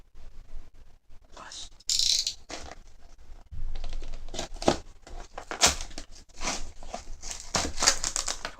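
A pack of force box trading cards is torn open and handled up close, giving irregular crinkling, ripping and papery rustling bursts that come in quick clusters with short quiet gaps.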